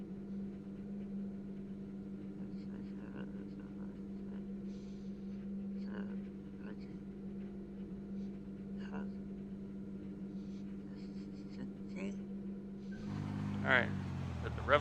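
A race car engine in the IMSA Le Mans racing game sits steady against the rev limiter, droning evenly at low volume before a louder burst of revving near the end.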